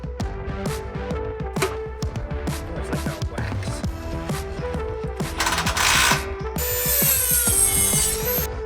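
Hand ratchet tightening bolts while mounting rock sliders on a Toyota Tacoma, a series of quick clicking ratchet strokes close up, with brief rubbing and mechanical handling noises and a hiss near the end.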